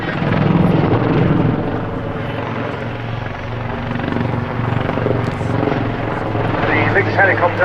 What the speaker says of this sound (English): The Lynx helicopter has of course been the mainstay of operations of the Army Air Corps for the last 30 years